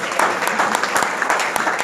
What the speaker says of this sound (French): nous applaudissons, s'il vous plaît